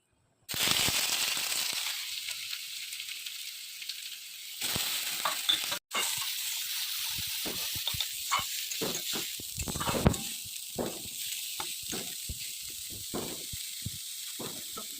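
Squeezed banana stem (thod) hits hot oil in a wok and sets off a loud, steady sizzle. Crackles and scraping stirs run on over about fifteen seconds with no voices.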